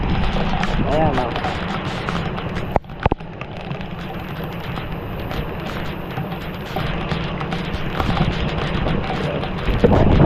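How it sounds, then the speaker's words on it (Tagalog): Dense, heavy rain pours in a constant roar, with a couple of sharp knocks and a voice talking underneath. "lakas ng ulan"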